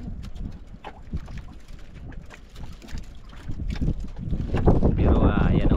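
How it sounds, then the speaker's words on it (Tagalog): Steady wind noise rumbling over a boat on open water, growing stronger and gustier toward the end, with a voice talking underneath. "hindi man malakas yung alon, hangin lang yung naglakas"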